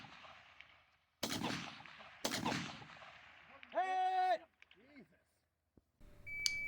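Two sharp, loud gunshots ring out on a multigun competition stage firing 75 grain ammo, followed by electronic beeps from a timer or buzzer and a short sudden cutoff into near silence.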